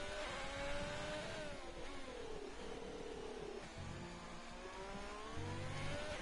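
Race car engines in a racing video game drone and whine steadily at a distance, with rising and falling pitch as the cars accelerate and shift, a continuous low-level roar with no talk.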